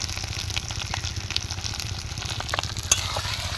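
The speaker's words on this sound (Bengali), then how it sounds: "মশলাটাকে মিক্স করে ভেজে নেব" Ground spices, coriander and cumin powder with green chili and turmeric, frying in hot oil, giving a steady close sizzle with faint stirring scrapes and no talk.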